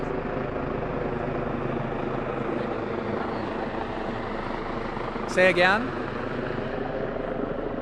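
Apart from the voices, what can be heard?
helicopter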